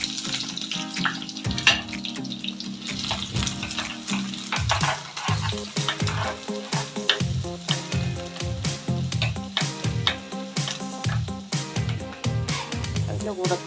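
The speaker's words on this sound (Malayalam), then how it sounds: "ഇനി ചെറിയ ഉള്ളി ഇടാം." Small shallots frying in hot coconut oil with popped fenugreek seeds, a steady sizzle and bubbling close by with a few stirring clatters, continuing throughout without talk.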